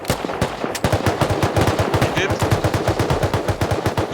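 Rapid automatic gunfire from the video game Rust rattles off in a dense, steady stream of loud close shots, with several short bursts running almost continuously throughout.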